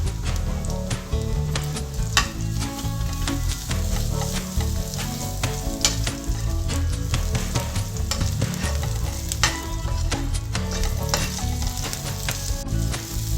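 Onion pieces fry with ginger garlic paste and turmeric for aloo gobi pulusu, making a loud continuous sizzle. A spoon scrapes and taps against the pan in frequent sharp clicks as the mixture is stirred.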